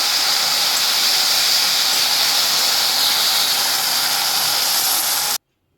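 Ginger juice hitting hot fish curry masala in a pan gives a loud, steady hiss that fills the clip, then cuts off abruptly near the end.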